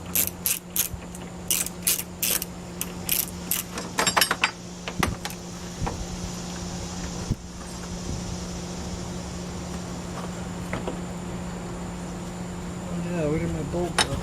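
A hand ratchet clicks in rapid bursts while loosening bolts during timing belt work on a 2011 Subaru Impreza, then settles into a steady mechanical hum with occasional knocks of tools.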